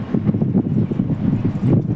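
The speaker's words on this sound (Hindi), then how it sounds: "हवा चल रही है, छत पे खड़ी है मैं।" Wind blows across a rooftop in bad weather, loud, close, low buffeting rumbles that gust and pulse unevenly against the microphone.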